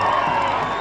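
Crowd cheering and applause ring out at a county governor's swearing-in ceremony in Laikipia, Kenya, a dense, loud, steady roar of voices and clapping with no pause.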